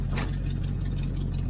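A 1980 Camaro Z28 V8 with new headers runs steadily, a loud, deep, continuous engine rumble close by with no talking.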